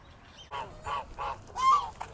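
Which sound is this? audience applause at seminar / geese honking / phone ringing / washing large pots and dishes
geese honking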